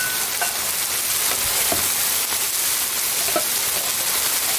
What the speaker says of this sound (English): Now the cabbage we're just going to singe.